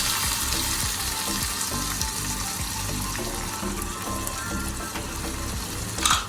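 Onions frying in hot oil with garam masala, a steady close, loud sizzle running throughout with occasional stirring scrapes and a brief louder burst near the end, no talking.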